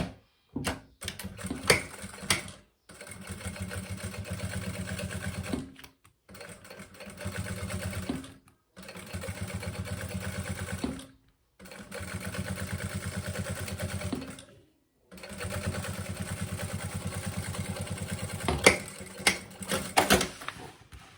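A sewing machine stitching a seam on a maternity bag runs in several sustained bursts of rapid mechanical whirring, separated by short pauses, close and clear with no talk.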